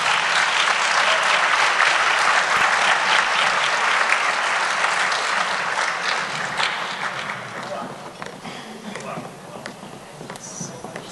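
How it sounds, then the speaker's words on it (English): An audience at a school awards evening applauds a young man coming on stage, a dense, loud roll of clapping that gradually fades toward the end as a voice begins. "Can we please give this young man a round of applause as we welcome him on stage?"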